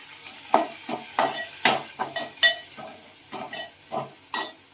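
Fried onion with curry leaves, tomato and spring onion sizzles in a pan. A spatula scrapes and clacks against the metal in regular strokes about every half second, loud and close.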